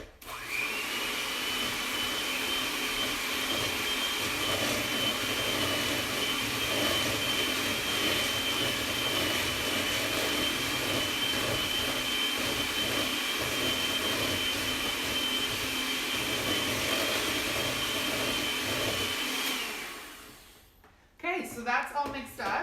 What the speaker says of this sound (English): I'm gonna mix it up again with the mixer.